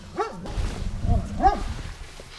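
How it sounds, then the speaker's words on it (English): A dog barks twice in a garage or workshop where a wrecked Infiniti G37X is being taken apart, sharp howling barks spaced about a second apart over low background rumble. "This dog needs to shut the fuck up."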